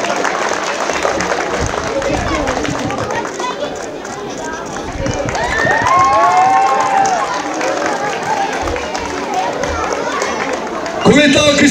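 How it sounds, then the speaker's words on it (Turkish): Outdoor crowd at a school festival with students, broad sustained applause and chatter spread across the whole stretch, loud and continuous, with voices calling out over it. "Evet, kuvvetli alkışlar alıyoruz efendim."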